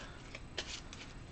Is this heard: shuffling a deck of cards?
yes